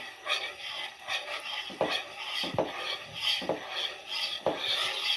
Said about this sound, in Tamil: இதை நம்ம வந்து நல்லா கிண்டி விட்டுக்கிட்டே இருக்கணும்